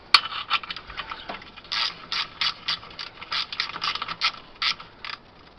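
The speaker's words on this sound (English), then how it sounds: "Have a nice brand new ratchet." A brand new ratchet on an old 7.3 engine clicks in rapid bursts, its pawl chattering through several short strokes with brief pauses between them, close and clear in a quiet space.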